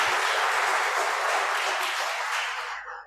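An audience at a strategic and security dialogue conference bursts into dense, sustained applause for about three seconds before it tapers off quickly.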